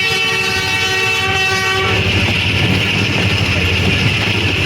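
The Shalimar Express runs at speed in heavy rain, a loud, close roar of wheels and rushing air with a sustained horn-like tone at the start that fades, then steady rumbling clatter.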